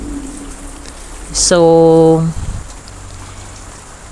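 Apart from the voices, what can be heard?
heavy rain pouring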